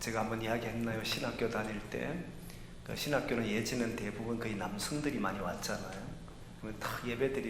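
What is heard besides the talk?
None of the usual background noises is heard.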